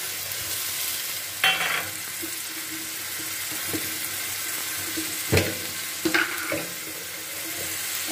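Ground coriander-leaf paste goes into a hot frying pan and is stirred, giving a continuous soft sizzle with occasional scraping and clattering of the spoon against the pan, heard close with no talking.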